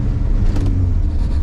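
A Geo Tracker with a Rally Tops hard top fitted, heard from inside on a test drive: a steady low engine and road drone, loud and close, with a brief faint rise in pitch partway through.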